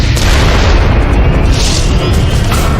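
Bomb blast on a section of a long natural gas pipeline in Salamanca, Mexico, a loud, sustained roaring rumble that fills the whole clip with heavy low-end boom and no break.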